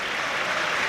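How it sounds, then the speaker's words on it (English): Stadium crowd applauding around the stands at a Premier League football match between Manchester United and Crystal Palace on a cold February afternoon, a dense, steady wash of distant clapping with no break. "further applause rings around the stands here"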